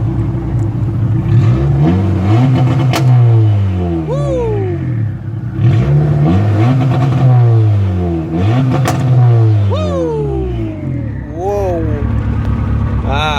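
A flex-fuel car engine with junkyard injectors revs repeatedly on two-step launch control, loud and close, with rising and falling revs and sharp popping bursts between pulls.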